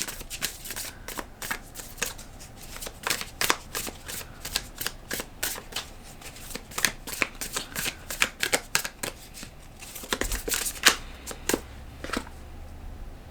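Tarot cards being shuffled by hand during a reading, a series of crisp riffling bursts and soft slaps in an irregular rhythm, close and moderately loud with no talking.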